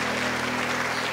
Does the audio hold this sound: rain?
no